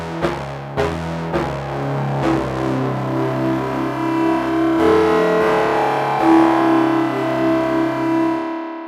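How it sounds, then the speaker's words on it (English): Guitar chords ring through a fast delay effect, smearing into a metallic, feedback-like shimmer that sustains and warbles. "giving you this more metallic feedback kind of sound"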